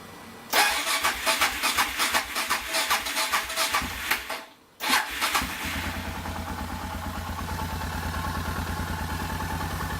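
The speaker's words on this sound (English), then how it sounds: "Let's first see if the bike will fire up. So I got the fuel going. It goes." A rebuilt adventure motorcycle engine fires up after a shakedown rebuild: cranking bursts, a short pause, then it catches and settles into a steady close-up idle, with no talking.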